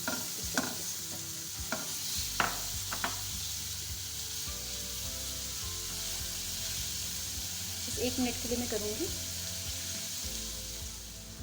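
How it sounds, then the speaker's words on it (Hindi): Steady sizzling of garlic and ginger frying in oil, with occasional stirring scrapes and someone speaking briefly over the cooking. "थोड़ा सा लहसुन अदरक को हम हल्का सा भून लेंगे।"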